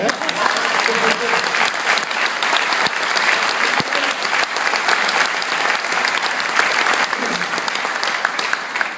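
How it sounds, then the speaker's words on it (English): An audience at an LGBT equality panel event claps in a full, sustained round of applause, dense and steady throughout, with faint voices mixed in under the clapping. "Let's just give a round of applause to the American people for a minute"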